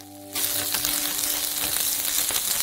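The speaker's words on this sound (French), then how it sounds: "faites frire les oignons jusqu'à ce qu'ils soient complètement transparents" Onions sizzling in olive oil in a pan on the stove, a steady, loud crackling fry that starts abruptly and continues unbroken with no voices.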